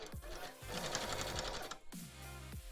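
A sewing machine stitches decoration onto a cosplay bodice in a fast, continuous whirring run of about two seconds, then stops with a few short mechanical clicks, close and fairly quiet.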